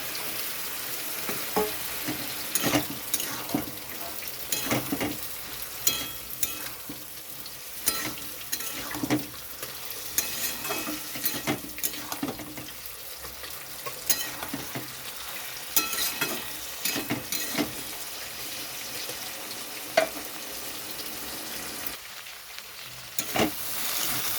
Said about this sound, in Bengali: এখানে দিয়ে দিচ্ছি সিদ্ধ করে রাখা ছোলা।